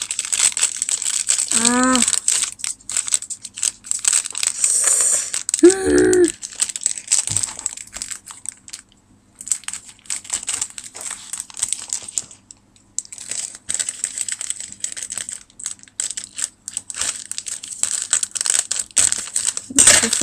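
Scissors cut and crinkle the plastic packet of a Popin Cookin sushi candy kit, with close rustling, crackling and snipping throughout and a few brief vocal sounds mixed in.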